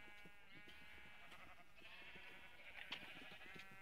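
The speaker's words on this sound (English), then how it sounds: "Sheep." Sheep bleat in a Minecraft-style survival game, soft harmonic calls sitting over a steady bed of game music and ambience, with one brighter bleat near the end.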